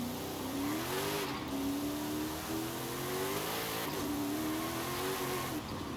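A modified Toyota Camry in Forza Horizon 5 accelerates hard, its engine note climbing steadily through the revs with brief dips at gear shifts, loud and close with continuous road noise.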